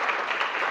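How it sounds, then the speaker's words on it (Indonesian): Short burst of classroom applause, a quick patter of clapping hands at moderate level with no talk over it. "Oke, betul. Tepuk tangan."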